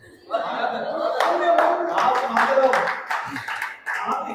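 An audience at a Hindi poetry recital (kavi sammelan) claps in a lively burst that rises and falls, mixed with chuckles and laughter while a voice talks over it.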